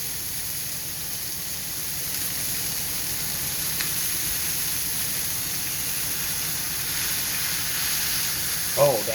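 Orange slices sizzle in a hot pan with seared chicken after the heat is turned off, giving a steady close frying hiss that runs throughout, with a brief clatter near the end.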